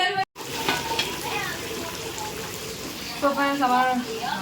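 Steady, moderately loud sizzling and frying of chicken rezala with fried onions in a home kitchen, with voices talking faintly over it.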